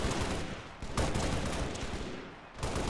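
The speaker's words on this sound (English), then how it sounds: "We hear a few needlers back here" Needler weapons fire repeatedly in a large Halo battle on Reach, with rapid crackling bursts and sharp shots layered over dense, continuous gunfire from many guns, loud and close throughout.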